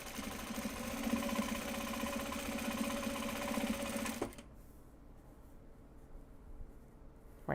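A sewing machine top stitching Japanese fabric project bags hums and rattles steadily up close for about four seconds, then stops abruptly, leaving quiet room noise and a soft click at the end.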